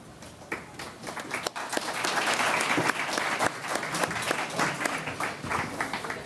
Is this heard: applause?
yes